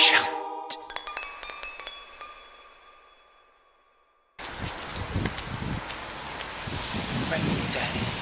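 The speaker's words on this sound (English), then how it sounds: "Rainy day." Rain on a rainy day comes in as a dense, hissing wash after a sudden cut, preceded by ringing tones, and holds steady and fairly loud to the end.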